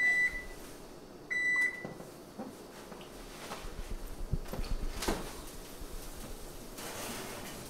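A microwave gives two short, clear electronic beeps close by, followed by clattering and handling noises.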